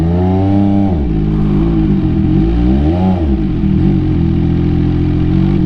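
MV Agusta F3 motorcycle with SC Project exhaust climbing a hill, loud and close, its engine revving up and down in smooth rising and falling sweeps as the clutch and throttle are feathered.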